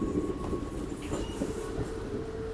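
Train rolling past on the railway line near a bypass cabin on the Chennai main line, a steady loud rumble of wheels and wagons with light clatter and a faint squeal, no voices.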